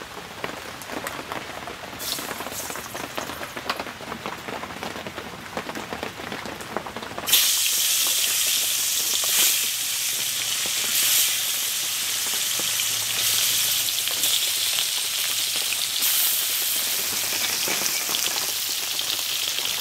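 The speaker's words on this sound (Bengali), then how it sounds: "মাছ ভাজা হতে থাক" Snakehead fish frying in hot oil: quieter crackling gives way to a sudden loud burst of steady, rain-like sizzling hiss that carries on alone without talk.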